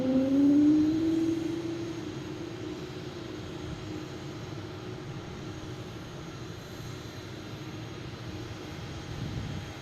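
A JetBlue airliner on flight 859 to Philadelphia at Boston Logan International Airport, a steady loud jet engine roar with a rising whine early on, continuing as a broad rumble throughout with no talk.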